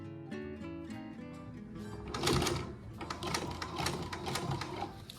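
An upholstery sewing machine driven by a servo motor runs in short bursts, a rapid mechanical chatter that speeds up and grows louder, close by with no talking.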